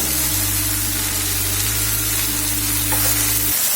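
Gongura (sorrel) leaves sauté with rock salt in a hot pan, making a loud, continuous frying hiss with a low steady hum beneath it that cuts off abruptly near the end.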